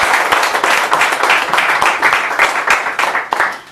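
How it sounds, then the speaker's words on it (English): An audience applauds a panel guest, Gabriel Nash, founder and CEO of a ministry, at a live event: dense, steady clapping from a crowd close by, holding at one level with sharp individual claps standing out. "Please give Gabriel Nash a round of applause."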